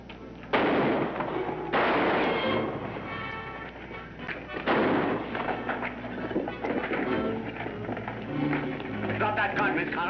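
Gunshots in a shootout scene from a 1952 crime film: a few loud, sharp reports ring out near the start and middle, each with a lingering tail, over an old, band-limited soundtrack with voices mixed in.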